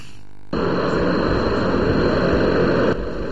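At Gao airport, with helicopters and cargo planes parked on the apron, a loud, steady broadband roar of aircraft engines starts abruptly and holds evenly, with no voices.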